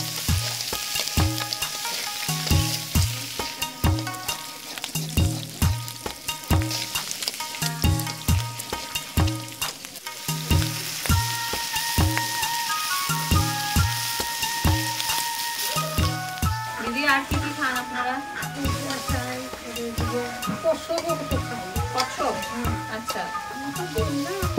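Crab pieces sautéing in a pan, sizzling steadily for the whole stretch beneath loud rhythmic music with a regular beat; no voices are heard.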